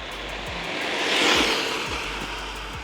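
A 4S-powered RC basher car with a bigger pinion gear speeds past, its high-pitched motor whine and tyre rush rising to a peak and fading again, set against steady outdoor background noise.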